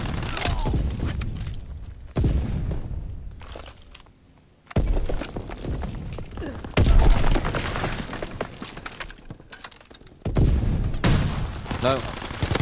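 A blunderbuss shotgun firing in a WW2 shooter game, several loud, sharp blasts spread across the stretch with clattering in-game action between them, mixed with gameplay noise.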